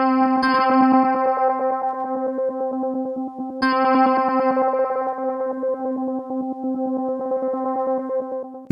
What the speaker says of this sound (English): Sounds like a kind of stuttering effect.